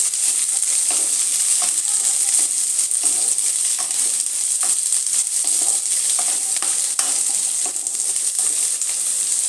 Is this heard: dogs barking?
no